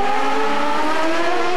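An Indy race car at Toronto's Molson Indy qualifying in 2000 exits the last corner, its engine holding a loud, steady high-pitched whine throughout.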